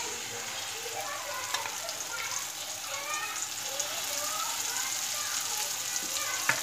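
Masala frying in hot oil with golden-browned onions for a brinjal curry, a steady close sizzle with scattered crackles and small pops running throughout.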